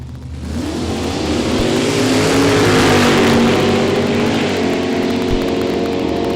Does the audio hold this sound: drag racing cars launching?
yes